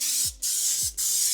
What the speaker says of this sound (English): I'm gonna spray these.